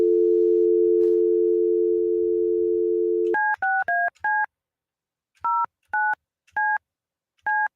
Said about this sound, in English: Let me get Shelby on the phone here.